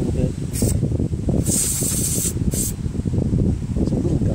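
Short bursts of aerosol cleaner hiss onto the gummy choke plate of a Craftsman LT1000 lawn tractor's carburetor on a 14.5 HP Briggs OHV engine, three quick sprays, the middle one longest, over a voice.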